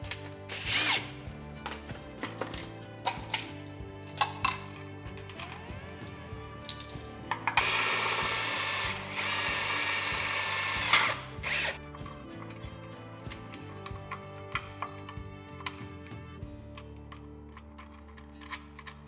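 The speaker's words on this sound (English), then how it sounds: "use a 7/8 inch hole saw, drill in here" A power drill with a 7/8 inch hole saw whirs steadily for a few seconds, boring a junction box during a well pump installation, preceded and followed by scattered clicks, taps and handling noises up close.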